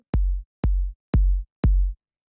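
Four deep, punchy kick drum hits in a steady even rhythm, each with a sharp click and booming low tail, alone and fairly loud, with no drum bus effect applied.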